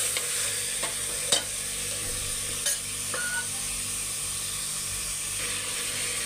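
Mutton pieces fry with ginger and garlic in a pot, giving a steady close sizzle with a few sharp clinks of a spoon stirring against the metal, no voices.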